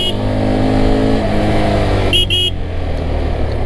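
A CFMOTO 300SR motorcycle pulls away and accelerates through the gears with a loud, close, steady engine drone, while a horn gives two short beeps near the end.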